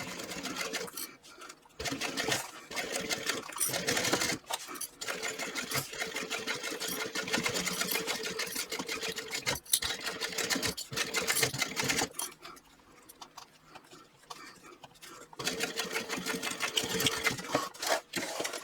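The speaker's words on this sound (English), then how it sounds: "now I'm going to sew this binding on" A sewing machine stitches binding onto a backpack, running close and steady in long bursts of rapid needle chatter, with short pauses and a quieter stretch midway.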